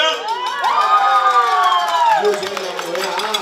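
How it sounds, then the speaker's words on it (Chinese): A crowd at a Mid-Autumn festival show cheers and shouts, bright excited voices rising and sliding over one another close by, dense and loud for a few seconds. "請各位鼓掌。"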